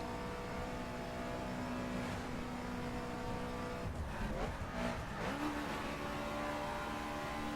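A BMW Z4 sports car in the racing game The Crew screams along at sustained high revs above 5,000 RPM, with a steady loud engine drone, brief tire squeal and shifting pitch through a corner.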